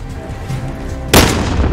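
A gunshot rings out in Call of Duty Warzone gameplay, a single sharp loud blast that bursts in after quieter game ambience and rings on with a broad rumbling tail.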